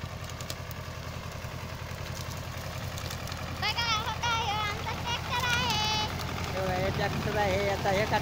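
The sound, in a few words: tractor engine running while collecting twigs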